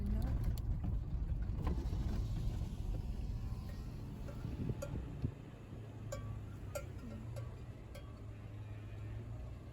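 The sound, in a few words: vehicle driving on a very bumpy dirt road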